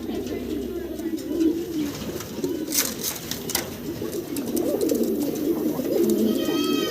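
Indian notan pigeons, a large-sized breed, coo steadily in a bird enclosure, their low murmuring calls continuous and close, with a few higher chirps and some background noise.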